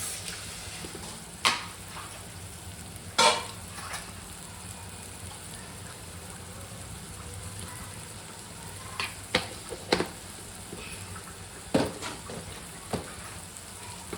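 Tomatoes and spices sauté in a pan with a soft, steady sizzle, broken by occasional clinks and scrapes of a spoon, quiet and close, with no voices.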